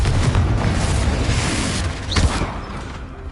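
A Confringo blast curse goes off in Hogwarts Legacy, a loud booming explosion over a dense rumbling battle background, with a sharp burst near the two-second mark.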